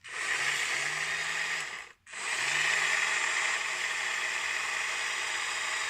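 An electric motor runs on a desk, giving a steady, loud mechanical whir with a low hum. It cuts out completely for a moment partway through, then starts up again and keeps running.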